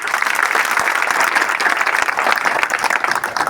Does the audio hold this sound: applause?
yes